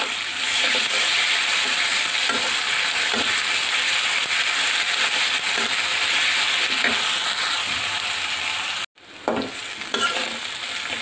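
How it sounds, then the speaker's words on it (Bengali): Onions fry in a pan with turmeric, cumin and ginger-garlic paste, under a loud, continuous close sizzle with regular scraping stirs and a brief break near the end. "এখন এর মধ্যে অল্প পরিমাণে হলুদের গুঁড়া, জিরার গুঁড়া আর আদা রসুন বাটা দিয়ে দিলাম।"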